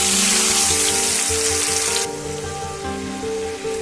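Ground spice paste mixed with water sizzling loudly in a hot pan while cooking mustard hilsa, a steady dense hiss that eases slightly partway through, with no talking.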